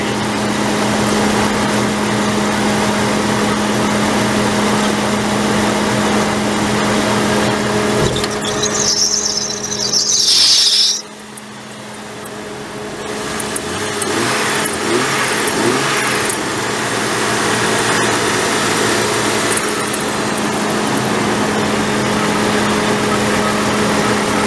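A Jeep engine running at idle, fitted with a straight bolted-on fan without a clutch, holds a steady drone throughout, with a brief louder rev or squeal near the middle before it settles back to a constant idle.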